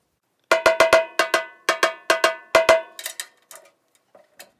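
A snare drum head is tapped repeatedly near each lug while tuning, in quick clusters, each hit ringing with a pitched tone, the taps growing quieter and sparser toward the end.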